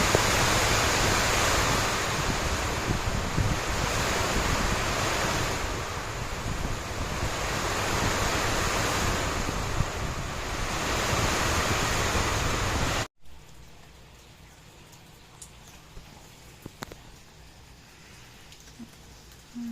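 Steady, loud roar of typhoon heavy rain and gusting wind on a house roof in San Pablo City, Laguna, for about thirteen seconds, then it abruptly drops to a much quieter background hush.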